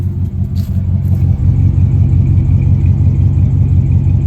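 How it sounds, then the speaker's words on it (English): A Dodge D100 pickup truck with a Flowmaster exhaust idles steadily up close, a loud, continuous low rumble with a slight uneven lope and no talking. "It's still sitting here idling."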